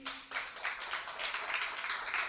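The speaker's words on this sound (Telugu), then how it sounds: "ఒకసారి చప్పట్లు కొట్టండి." Audience clapping together on cue at a church sermon gathering, a steady broadband patter of many hands that continues throughout without a break.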